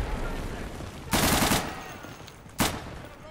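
Thompson submachine gun fire in Day of Infamy, two loud broadband bursts, a longer one of about half a second followed by a short one, over a steady background of game noise.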